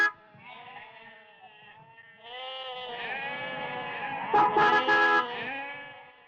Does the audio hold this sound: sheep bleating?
yes